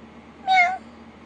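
A single cat meow, short and close, rising and falling with clear harmonics and standing alone against a quiet background.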